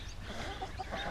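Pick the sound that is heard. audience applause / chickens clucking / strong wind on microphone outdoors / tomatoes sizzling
chickens clucking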